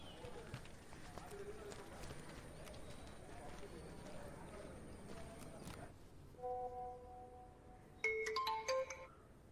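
A telephone ringtone sounds in a Telugu comedy film scene, coming in as bright repeated electronic tones after a stretch of talk and background noise, loudest near the end.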